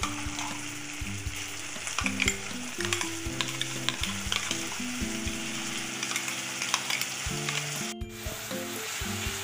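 A ground paste of tomato, onion and green chilli sizzles loudly in a pan of oil with ginger-garlic, a dense continuous frying hiss broken by stirring scrapes throughout, no voices.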